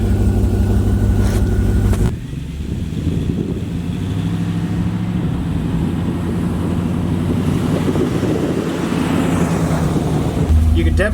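A 1979 Jeep Cherokee Chief with a new exhaust runs with a steady, deep, loud rumble, then pulls away as the drone shifts to driving noise with wind and road rattle.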